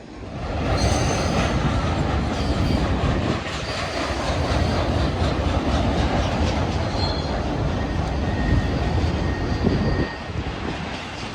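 CN freight train A435 rolls past close by with a loud, continuous rumble and clatter of wheels on rail, steady throughout, with faint intermittent wheel squeals above the roar.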